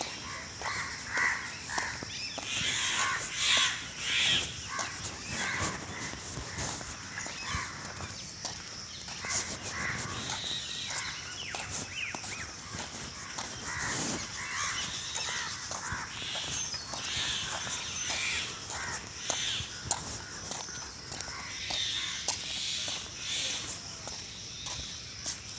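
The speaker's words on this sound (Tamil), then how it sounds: "ஆனால் இப்போ மைனாக்கள் சத்தம்லாம் வந்துடுச்சு." Crows cawing and common mynas chattering during an early morning walk outdoors, a busy layered mix of bird calls near and far with faint footsteps and light background talk.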